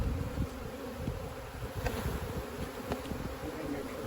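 Honey bees buzz steadily and densely at an opened hive during requeening, a continuous close swarm drone with no voices over it.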